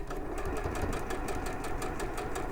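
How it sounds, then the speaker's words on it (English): Domestic sewing machine stitching fabric, a smooth, fast, even mechanical whir with steady rapid needle ticks, close and continuous throughout. "The sewing machine sounds really smooth."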